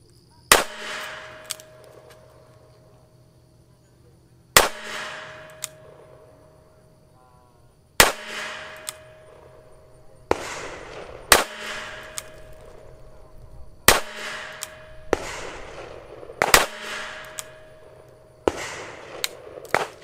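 A Taurus Defender 856 revolver fires single action with 38 Special rounds outdoors, sharp loud cracks spaced a few seconds apart, about seven shots in all, each leaving a short ringing echo.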